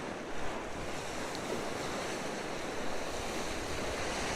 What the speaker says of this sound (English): There's a few nice waves rolling in, to tell the truth.